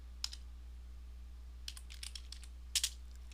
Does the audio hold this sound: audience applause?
no